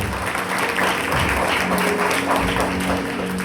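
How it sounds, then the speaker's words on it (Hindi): Steady, loud applause from a church audience rolls on continuously, many hands clapping together in a dense, unbroken wash. "पहले तो अपने लिए जोरदार तालियां हो"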